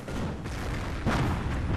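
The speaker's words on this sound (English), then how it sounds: "Here comes the barrage." A continuous rumbling artillery barrage in a Company of Heroes battle, a dense wall of booms and blasts that stays loud throughout with no talking.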